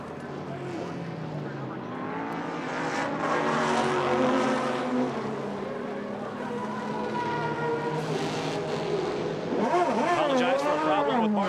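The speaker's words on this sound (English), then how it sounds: "Bill Oberlin, smokes his way back into the pit lane" A BMW prototype race car rolling into the pit lane during a 1999 American Le Mans Series race at Laguna Seca, its engine drone steady and rising near the end, mixed with crowd and broadcast background sound.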